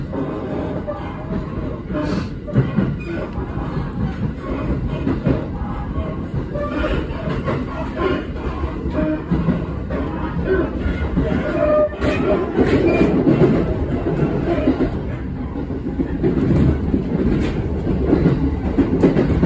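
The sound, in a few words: train moving on rails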